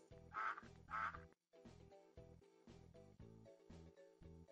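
A cartoon duck in a Bubble Guppies children's game quacks: two loud quacks up front, then a string of shorter, evenly spaced quacks in a bouncy rhythm.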